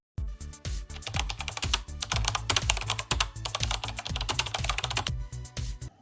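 Code is being typed on a computer keyboard in quick, uneven clusters of crisp key clicks, close and steady for several seconds with a few short pauses.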